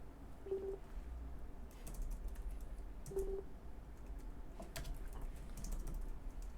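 Typing on a computer keyboard with scattered, faint clicks and clacks in a quiet room, plus two short electronic beeps early on and no speech.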